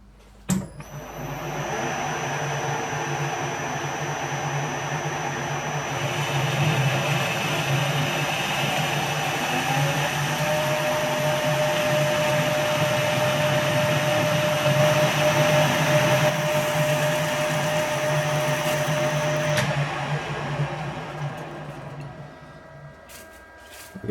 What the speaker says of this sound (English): So we're just going to use the boring bar to bring this out.